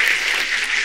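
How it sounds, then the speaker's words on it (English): A brief burst of steady audience applause at a special gathering of artists, dense and fairly close, lasting under a second. "Applause."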